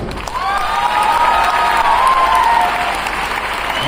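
Sustained applause from a sizeable audience, steady and loud throughout, with a few faint cheers mixed in.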